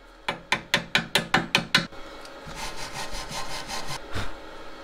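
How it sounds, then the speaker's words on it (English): A chipping hammer knocks slag off a flux-core weld from a Harbor Freight Titanium Flux 125 welder, making eight sharp rhythmic strikes followed by a softer scraping and rubbing. The sound is loud and close, with no talking. "I'm gonna chip off some of that slag"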